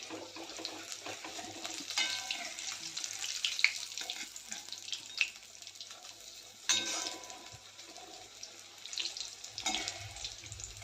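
Sweet corn pakoras fry in hot oil with a steady, fairly quiet sizzle and hiss, broken by occasional soft clinks and stirring noises.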